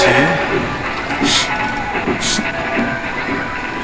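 A train ride rumbles along in Rollercoaster Tycoon Classic with a steady rolling clatter, two brief hissing bursts and a voice talking over it.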